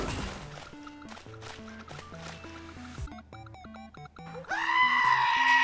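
Goat bleating in the video game Goat Simulator, a loud, sustained bleat breaking in near the end over busy game music with melodic notes.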